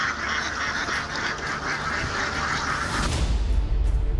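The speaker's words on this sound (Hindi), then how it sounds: "चीन से इमरान मंगा रहे हैं बतख सेना।" A flock of ducks quacks and honks in a dense, continuous chorus, loud and close, with rumbling noise rising toward the end.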